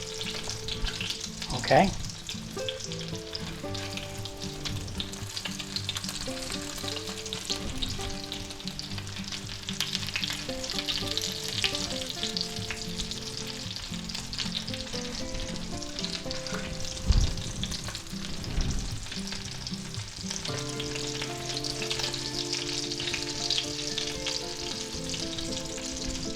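Cheesy chicken ranch patties frying in a pan give a steady, close sizzle with occasional sharper crackles and a light scrape near the end, under a brief spoken word.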